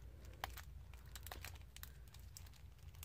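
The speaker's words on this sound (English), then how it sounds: "We're going to start by opening this cellophane here, by peeling off that little ribbon thing if I can" Cellophane wrapper on a Bicycle playing card deck being torn open close up, with quick faint crinkles and sharp crackling snaps spread over a few seconds.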